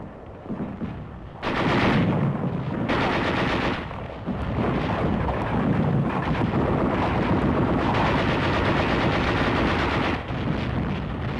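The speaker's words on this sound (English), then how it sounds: "A routed Jap seeks new cover and is exposed to our gunfire." Heavy, sustained bursts of gunfire and rapid automatic fire in WWII Pacific combat, 1944, loud and dense, coming in long volleys with brief lulls between them.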